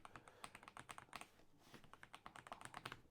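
Rapid, continuous typing on a Keychron V3 mechanical keyboard, crisp close-up key clacks in an uneven rhythm with a brief pause midway, no voices.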